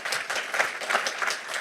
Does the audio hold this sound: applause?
yes